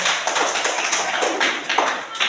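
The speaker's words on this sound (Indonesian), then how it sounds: "Tepuk tangan untuk Istin dulu." Classroom pupils clap for a classmate, a quick, busy patter of small hands close by, with voices mixed in throughout the short burst.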